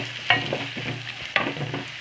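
Onions are stirred and sautéed in a frying pan for a spinach and egg poriyal, with a continuous soft sizzle broken by two sharp spatula scrapes against the pan.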